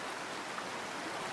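Steady, soft rushing water as a character wades across a river in the hunting game Way of the Hunter, a continuous near wash with no talk.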